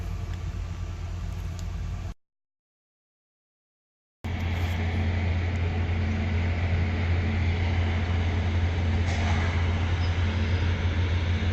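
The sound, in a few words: train on the tracks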